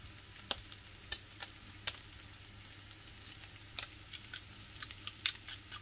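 Lardons fry with garlic in a pan, a faint low sizzle marked by scattered sharp pops and spatters at irregular moments, heard alone without talk.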